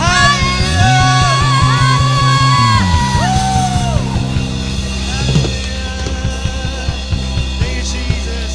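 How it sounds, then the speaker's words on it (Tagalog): A church congregation shouts hallelujah together in a loud burst of many voices, with musical tones sustained underneath and crowd noise continuing afterward. "Isa nga po malakas na sigaw ng hallelujah para sa ating Panginoon."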